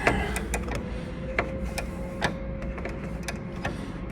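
A 1/4 inch ratchet with a 1/2 inch socket snugs bolts on a 4.5 inch stretched CVO rear end kit, making a close series of quick sharp clicks in uneven runs over a low background rumble.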